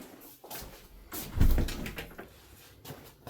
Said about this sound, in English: I'm going to leave this door open so you can see it.